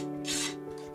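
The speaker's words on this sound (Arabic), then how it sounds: "فبأي صنفرة ناعمة أو حجر سن أو مبرد حدادي وأشيل الحواف." A fine sandpaper, sharpening stone or metal file is rubbed along the sharp edges of a wooden Ramadan lantern made from old wood. A single short raspy scrape swells and fades over a steady background hum.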